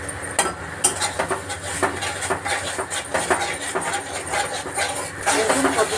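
Fish curry of cut rohu pieces frying with coriander and cumin powder in a pan at home, with scraping and clinking of a spatula against metal and a steady sizzle, no talking.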